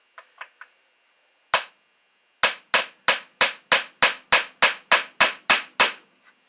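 A hammer drives quarter round trim onto a TV cabinet with three light taps, a single harder blow, then a steady run of about eleven sharp, evenly spaced strikes close by, with no talk.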